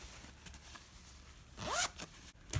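A zipper is pulled shut on a fully lined fabric pencil case in one quick, close stroke, with no talk over it.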